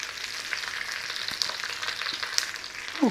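Chorizo sausage fries in a pan with a steady, close hiss and crackle that runs without a break, a few faint clinks mixed in and a short scrape near the end.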